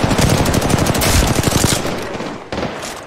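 Rapid bursts of automatic gunfire from a video game firefight rattle steadily and loudly, then thin out, with a distinct crack near the end.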